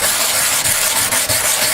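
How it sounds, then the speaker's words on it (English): Rough 80 grit sandpaper scrubbed against the back of grips, a dense steady rasping hiss with brief dips between strokes, close and alone. "I'll rough up the back of the grips just so the JB Weld has something to adhere to very good"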